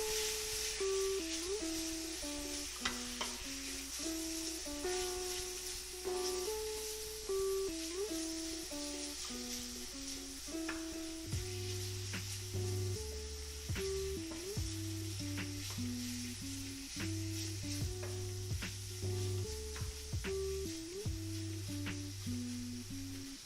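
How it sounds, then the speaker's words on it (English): Bacon frying in a pan sizzles with a continuous crackling hiss and occasional scrapes and clanks of stirring, close and steady throughout, with background music playing underneath. "Give our bacon a stir."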